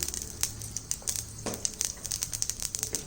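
Cumin, fenugreek, dried red chilli and asafoetida spluttering in hot oil while being tempered, with scattered quiet pops and crackles over a faint sizzle and no talking.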